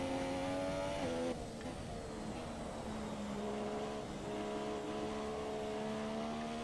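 Formula 1 race car engine in the F1 2017 video game: a steady high-pitched whine that shifts pitch with gear changes and speed, continuous and loud throughout.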